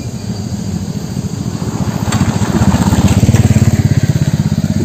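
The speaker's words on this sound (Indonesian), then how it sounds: "Itu udah motor lewat tuh, motor lewat." A motorcycle engine rumbles nearby, its rhythmic throbbing growing louder as it passes close, with no talk over it.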